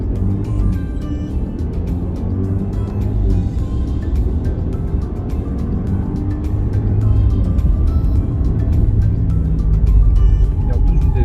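A 2020 Mercedes GLE 350 SUV drives along a road with a steady low engine and road rumble from inside the cabin, while someone talks throughout, and the drone builds slightly toward the end.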